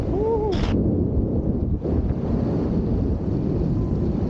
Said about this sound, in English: Oh, another big gust coming.